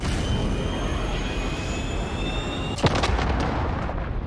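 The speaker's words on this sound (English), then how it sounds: "Enemy cruise missile incoming." A cruise missile strike in the video game Modern Warfare, a sudden loud booming blast that cuts through a steady rumbling hiss, with crackling debris ringing out after the hit.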